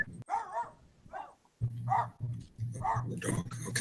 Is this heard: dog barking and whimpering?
yes